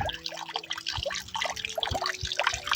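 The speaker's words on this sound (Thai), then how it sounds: "ตัวนี้ใช้พลังงานแสงอาทิตย์นะคะ ที่เป็นน้ำตกนะ่ะ" A small solar-powered garden waterfall fountain trickles gently, with light splashing and scattered drips, quiet and close.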